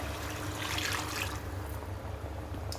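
Water pouring into a mixer jar that holds garam masala and other ground spices for a gravy curry, a steady close splash and trickle lasting a couple of seconds that then thins into a softer flow.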